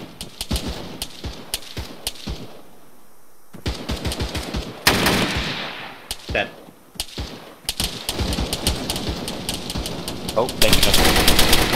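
Rapid bursts of automatic gunfire from an ARMA 3 firefight crackle throughout, some close and sharp, others in broken volleys, with a heavier sustained burst near the end; players talk over the shooting.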